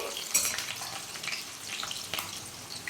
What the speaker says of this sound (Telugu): పచ్చిమిర్చి అయితే వేపుకుంటున్నానండి